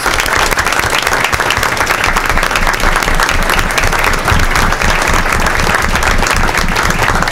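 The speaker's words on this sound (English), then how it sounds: "Let's give them all a great round of applause." A school board meeting audience gives a loud, sustained round of applause, dense clapping filling the room steadily from start to finish.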